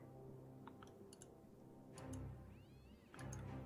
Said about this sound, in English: It's cats. I hear the cats.